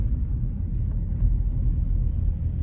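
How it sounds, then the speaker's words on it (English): Cars crawl into town in heavy Friday-night traffic in Corralejo, a constant deep engine and road rumble, moderately loud and close, with no clear voices. "Look at all these cars coming into town."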